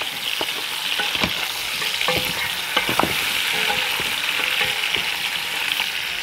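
Carrots and onion sizzling in a pan while a utensil stirs them, giving steady frying hiss with repeated scraping strokes close by, no talk.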